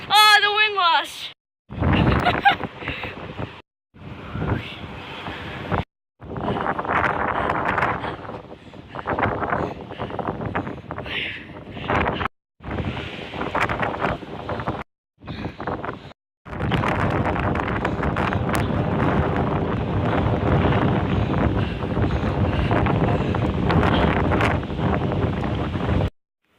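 Strong gusts from a bad windstorm buffet the microphone in loud, rough bursts broken by short gaps, then settle into a sustained roar toward the end. A person speaks briefly at the very start.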